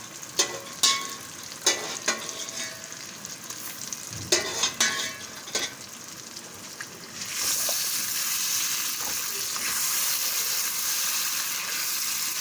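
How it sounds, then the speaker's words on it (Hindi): Goat trotters (paya) being sautéed in a pot: first several sharp clanks and stirring scrapes, then a loud, even sizzle that holds steady to the end. "पाए हम इसमें डालकर इसकी अच्छे से कर लेंगे भुनाई"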